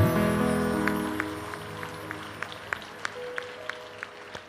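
Applause from an audience at a Hindi comic poetry show breaks out at full volume, then thins to a few scattered, sharp claps that keep sounding at irregular intervals toward the end.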